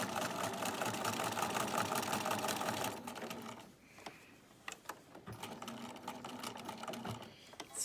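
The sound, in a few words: sewing machine doing straight stitch box sewing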